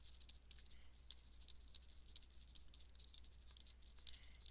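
Pen scratching out a name on paper during an art project, a quiet run of short high strokes over a steady low hum, faint and close, with no voices.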